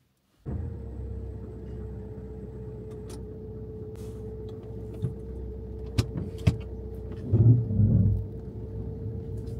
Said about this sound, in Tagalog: Kay mommy's driving ha.